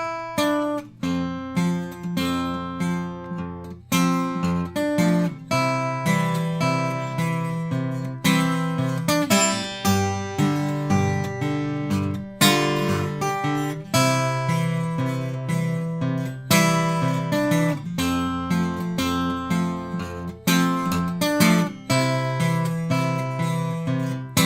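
A guitar plays a thumb-picked bass line and a melody together, sounding as a steady fingerstyle pattern of plucked notes at an even, moderate tempo with no talking.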